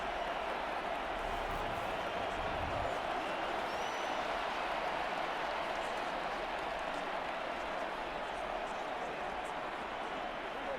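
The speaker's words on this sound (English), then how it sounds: "the crowd getting into it as we come up on a big 3rd down" Stadium crowd in Madden 24 during a Raiders–Cowboys preseason game, a steady broad roar of cheering that holds at an even level throughout, building toward a big third down.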